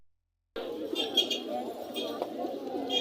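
Pigeons coo repeatedly at a busy pigeon market in Tongi, soft throaty calls layered over crowd chatter and background bustle.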